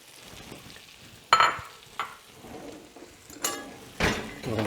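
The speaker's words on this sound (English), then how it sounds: "I'm going to go in with a couple tablespoons of butter, and we're going to add some sliced mushrooms to the pan" Butter and sliced mushrooms sizzle in a skillet, a soft steady frying hiss punctuated by several sharp bursts and scrapes as the pan is stirred.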